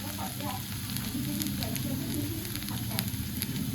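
Okra frying with turmeric in a pan, a steady soft sizzle with faint scraping as it is stirred, continuous and fairly quiet throughout.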